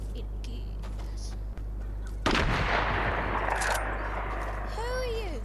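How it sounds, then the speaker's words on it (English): Gunfire bursts out in the Fortnite battle royale game, a loud dense volley starting partway through and rolling on for a few seconds over a steady low hum, with a voice talking over it and a chirping whistle near the end. "Who are you shooting at?"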